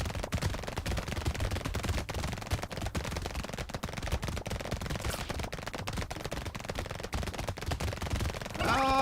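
In the arena game Brotato, enemies fire fast bullets in a steady rapid patter of small shots, a constant crackling stream of gunfire throughout, moderately loud and with no talking over it.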